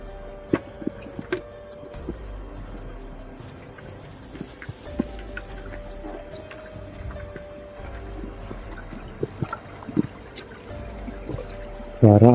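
A creek flows and trickles steadily nearby, a soft, continuous water sound with scattered small clicks and knocks over it, fairly quiet throughout.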